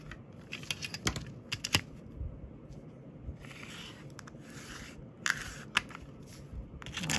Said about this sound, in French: On va couper ça.